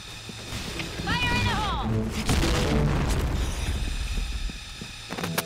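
A loud, heavy gas bomb blast in the shooter game Point Blank, a booming burst that swells and then lingers as a rumbling tail, with a short bright game tone just before it and a player's voice nearby.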